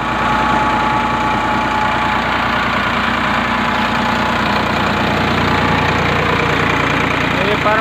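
A Farmtrac short tractor's diesel engine runs steadily at about 11 hundred RPM, driving a homemade armature pump that lifts water from a 100-foot well; the loud, continuous knocking drone fills the whole stretch, with a voice faintly present over it.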